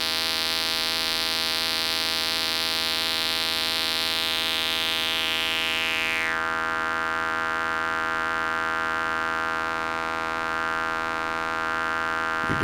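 Steady, loud resonant tone from a homemade modular synthesizer's voltage-controlled filter, a sustained buzzy drone whose high singing resonance sweeps down and drops away about halfway through, leaving a darker hum.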